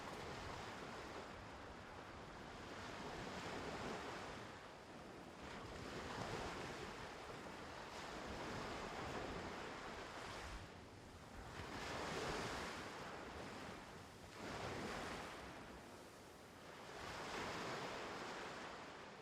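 Ocean waves roll onto Dreamland Beach in Uluwatu, a continuous surf roar swelling and easing every few seconds, mixed with gusty wind buffeting the microphone.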